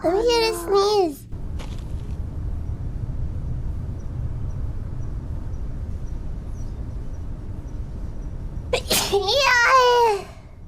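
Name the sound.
sneeze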